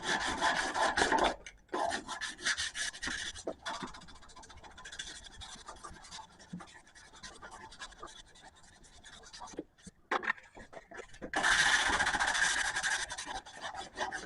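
Sanding and filing along the spine of a custom harpoon clip point knife's bookend matched handle scales, a steady raspy rubbing in repeated strokes, close and alone, with brief pauses between passes.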